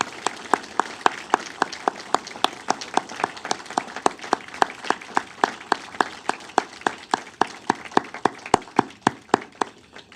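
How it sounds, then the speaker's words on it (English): Dense, steady applause from an audience at a memorial event for the Kent State and Jackson State massacres, honoring poets and play presenters; rapid overlapping claps sustain evenly for the full stretch with no talking. "A big round of applause to our poets and our presenters"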